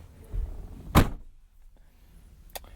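The rear door of a Ford Super Duty pickup truck slams shut with one sharp, loud thud, followed by a quieter secondary knock a moment later.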